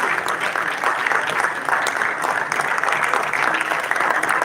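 Conference audience at a DevFest tech event applauding a speaker, with dense, steady clapping and some cheering that stays loud and continuous throughout.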